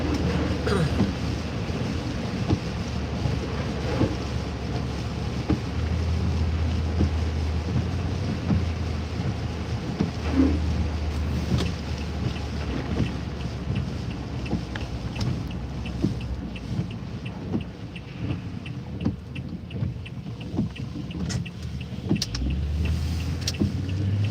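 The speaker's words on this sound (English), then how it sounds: "it's way windier down here now. It's whipping up pretty good." Strong nor'easter wind at a coastal entrance, a continuous loud low roar with gusty buffeting that stays steady throughout.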